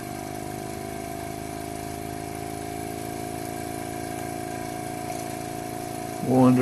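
Model steam engine running steadily, a constant mechanical whir and hum at moderate level throughout, with a brief louder knock or clatter near the end.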